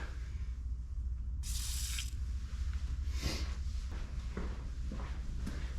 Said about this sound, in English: I'm gonna squirt some good stuff down in there.